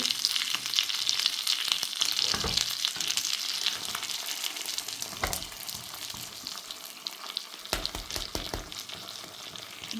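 An egg and a tortilla frying in oil in a pan give a continuous close, crackling sizzle with occasional sharper pops and clatter, and no talking.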